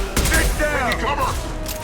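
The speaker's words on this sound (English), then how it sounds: "Taking heavy fire!" Heavy gunfire in Mass Effect 2 during a firefight, a quick cluster of loud shots mixed with shouted combat voices and whistling effects over a couple of seconds.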